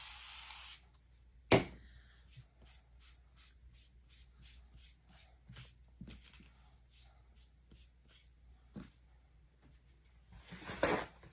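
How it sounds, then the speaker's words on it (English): A spray bottle mists water onto a chalk paste stencil sign: a short hiss at the start, a louder spritz, then repeated soft scrubbing strokes and a final spray burst, fairly quiet and close. "If you want, you can spray more water"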